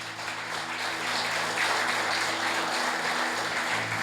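A large church congregation claps steadily, a broad wash of applause that holds at even loudness with a low hum underneath.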